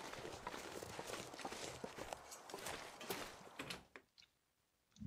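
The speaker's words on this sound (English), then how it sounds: "I heard wolf footsteps right there," Wolf footsteps in a survival video game, a run of soft padded thuds crunching close by for several seconds before fading to near quiet, with no talk over them.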